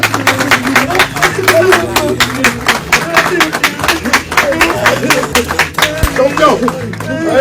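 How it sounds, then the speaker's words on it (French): Steady, rhythmic applause from a gathered crowd at a memorial for a late father, dense and close, with voices chattering beneath the clapping. "essayons d'applaudir pour mon papa"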